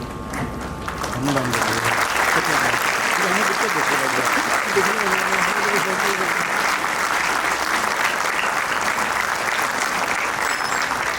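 Sustained audience applause at a government school mentorship program ceremony, loud and dense for about ten seconds, with a voice talking over the start.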